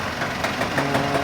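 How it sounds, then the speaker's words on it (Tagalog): Komatsu bulldozer with an overhauled engine at a construction site, its diesel engine idling in a steady low rumble with faint knocking, heard close and alone. "Ito yung bulldozer ng Komatsu."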